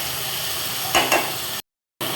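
Mustard, green chili, cumin and mango fry together in a pan with a steady close sizzle, two brief scraping stirs midway, then a short cut to silence before the frying resumes.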